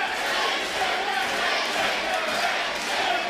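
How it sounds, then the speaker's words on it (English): A wrestling event crowd chants for Friendship, a dense, loud mass of voices that rises and falls in rhythm and fills the hall continuously for a few seconds. "the crowd chanting for Friendship"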